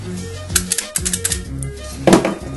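Scissors cutting around a shrink plastic earring shape, a close series of crisp snipping clicks in irregular bursts, the last cut the loudest, with no voices.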